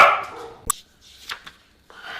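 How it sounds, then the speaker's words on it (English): Household dogs barking at a garage door opening as someone arrives home, a couple of sharp barks and yips at moderate distance with brief pauses between them. "the dogs announced her arrival"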